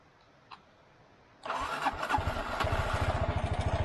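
An abandoned Honda motorbike's engine cranks and catches after a quiet pause, then settles into a close, steady, pulsing idle.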